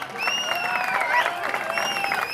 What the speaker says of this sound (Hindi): आप उनके लिए ताली बजा दी।